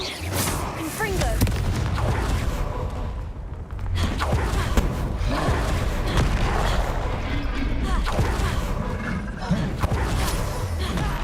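A Confringo blasting spell cast in Hogwarts Legacy combat, heavy booming blasts bursting through dense, continuous battle noise with a voice calling out over it.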